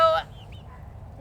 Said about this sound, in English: Crazy chicken.